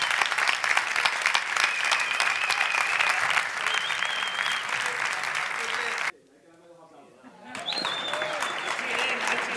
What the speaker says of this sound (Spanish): recibamos con un fuerte aplauso a Guillermo Wood y a María Llompart